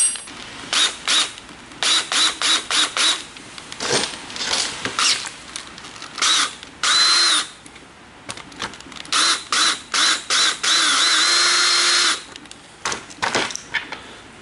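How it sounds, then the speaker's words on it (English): A drill press at slow speed boring a 1/4-inch hole in a part for a Toro Greensmaster front roller lift, heard as close, intermittent bursts of whirring and grinding with ratchety mechanical clicks and pauses between passes. "I have this drill press set to a slow speed."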